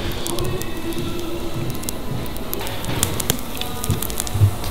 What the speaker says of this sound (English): Once it gets going, it will have an audible crackle to it.